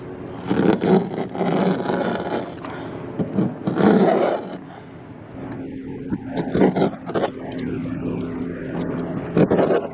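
3M paint protection film is peeled off a vehicle's painted surface, giving close, sticky tearing and scraping noise in uneven pulls that fade toward the end.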